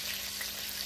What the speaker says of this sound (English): you just keep frying this